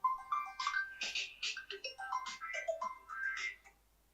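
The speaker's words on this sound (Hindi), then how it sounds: "एक मिनट फोन आ रहा है।" A phone rings with an incoming call, a melodic ringtone playing a quick sequence of bright electronic notes, loud and close, with no talking over it.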